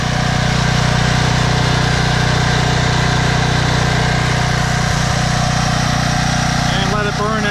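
Troy-Bilt 8000 W generator with a 15 HP Briggs & Stratton engine running on leftover fuel after the supply is cut, a loud steady droning hum close by, with a voice briefly near the end.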